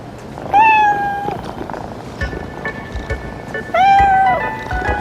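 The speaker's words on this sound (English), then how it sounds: "They're my cats." Cats meow loudly and close, two long drawn-out cries separated by a few seconds of quieter background noise, with faint higher tones in between.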